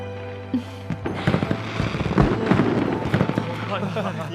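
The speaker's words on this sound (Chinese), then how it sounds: "怎么会有烟花呢？" Fireworks pop and crackle in a historical fantasy drama scene, a cluster of sharp bursts under a speaking voice and swelling background music.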